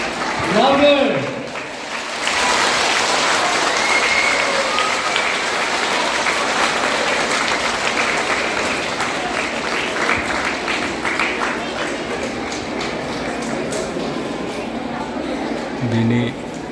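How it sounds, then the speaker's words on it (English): Students at a school silver jubilee celebration break into a big round of applause after a brief voice, with loud, sustained clapping that continues steadily for over ten seconds before easing off. "give a big round of applause"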